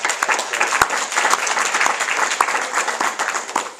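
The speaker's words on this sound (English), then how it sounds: "give yourselves a round of applause" Sustained audience applause fills a hall at the Kansas City Brain Bee spring 2011 competition, a dense, steady wash of many hands clapping from start to finish with no break.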